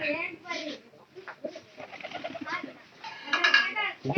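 Domestic pigeons coo in a neglected loft of ten nest boxes holding twelve pairs. Soft, low coos repeat through the clip, mixed with nearby voices and bird calls.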